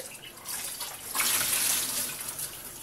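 Frozen mackerel is rinsed under running tap water in a kitchen sink, a steady nearby hiss and splash that swells louder midway as the stream hits the fish, with no talking.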